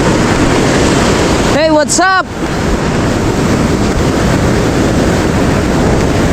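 Sea waves roll and wash near a boat by the shore in a continuous loud surge with wind buffeting the microphone, broken briefly by a quick spoken greeting.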